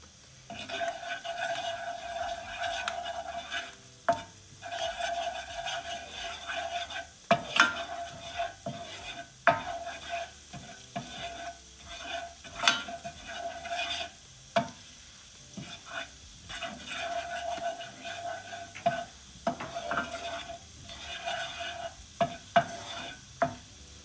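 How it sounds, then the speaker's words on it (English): Curry powder toasting in a pan for Jamaican curry shrimp: a steady close sizzle with frequent scraping stirs and light utensil clinks against the pan. "we're gonna toast the curry now"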